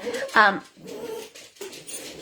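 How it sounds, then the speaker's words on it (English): A dog just let indoors whimpers and whines in short high cries close by, loudest near the start, while a person talks over and around it. "Someone just let my dog in."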